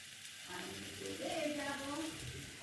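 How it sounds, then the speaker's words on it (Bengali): Potato and papaya pieces fry gently in a pan with a soft, low, continuous sizzle and faint stirring, fairly quiet throughout. "আমি হালকা করে আলু আর পেঁপে ভেজে নিয়েছি"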